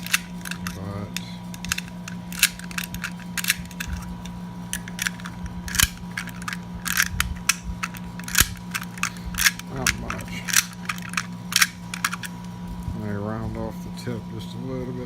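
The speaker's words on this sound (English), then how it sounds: "Still needs a little touch up with the file" A hand file rasps over a metal part in rapid repeated strokes, close and steady, with a person talking intermittently over a constant background hum.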